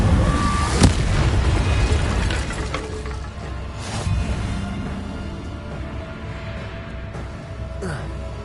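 Spells fire off in quick succession in Hogwarts Legacy, with sharp fiery bursts and booms at irregular intervals over a busy, rumbling combat background.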